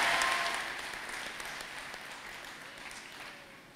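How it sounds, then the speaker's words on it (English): Audience applause at a school graduation ceremony, a dense wash of many hands clapping that starts strong and gradually fades over a few seconds, with no talk over it. "Let's give her another round of applause,"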